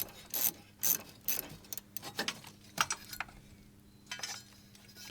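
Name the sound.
loosening Toyota Sienna battery bracket with ratchet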